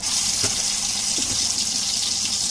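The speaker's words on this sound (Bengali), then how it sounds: "গরম হয়ে গেছে এবার ওর মধ্যে মাছগুলো দিয়ে দেবো" Pangas fish going into hot mustard oil sets off a steady, bright hiss of frying, loud and continuous with a few soft pops and clatters, no voices.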